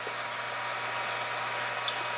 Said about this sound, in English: you should be able to hear the water